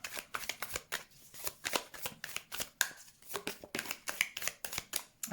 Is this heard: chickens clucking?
no